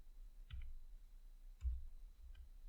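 Typing on a computer keyboard during a JavaScript coding session: three sparse, faint key clicks spaced apart in a quiet room.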